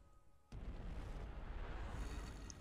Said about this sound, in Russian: Там взрыв, что ли?